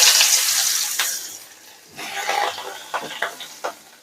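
Chopped onions and chillies sizzle in a pan, a bright hiss that fades and then returns, broken by scraping and clinking stirs of a utensil.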